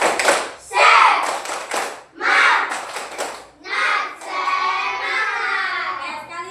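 Classroom of children standing to perform a rhythmic clapping cheer, sharp bursts of hand claps in a patterned beat alternating with the group shouting together, close and loud.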